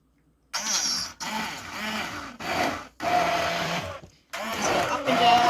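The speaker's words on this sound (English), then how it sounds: "we may have to use a blender, regular blender" Regular countertop blender pureeing cooked homemade squash soup, a loud close whirring motor running in several bursts with short pauses between, each surge grinding on for about a second or so.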